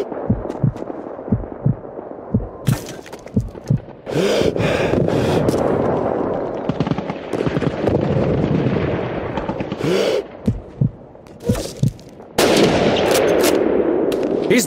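Rifle gunfire in the video game Call of Duty 2, a city hall battle: loud, close shots with long echoing tails, spaced irregularly, then heavier sustained firing and more cracks later.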